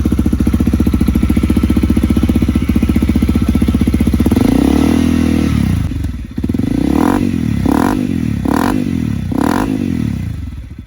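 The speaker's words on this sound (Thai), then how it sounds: "แต่ตอนนี้ไม่ได้ใส่จุกลดเสียงนะครับ" A loud, raw Honda CRF300L motard exhaust with no baffle insert idles with a harsh, rapid putter, then rises through several sharp revs, each blipping up and falling back. Close by, no talking.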